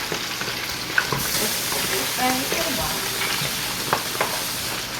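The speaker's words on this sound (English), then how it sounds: "I'm gonna go ahead and drop it on down in that grease. And let that cook." Shrimp for po'boys deep frying in grease in a deep fryer, a steady loud sizzling hiss with scattered small pops and crackles, no talk over it.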